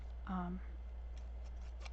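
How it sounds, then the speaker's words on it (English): Fiskars pinking shears, spring-loaded and locking, make a quick snip, a short bright crunch of blades closing once, then a few faint paper rustles and clicks. "I just wanted to use my pinking shears."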